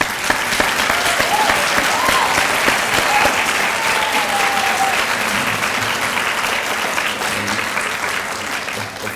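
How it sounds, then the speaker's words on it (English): Sustained crowd applause at a summer health sciences recognition ceremony, a thick continuous roar of clapping from a large audience lasting the whole stretch, with faint voices and cheers mixed in. "give yourself a round of applause"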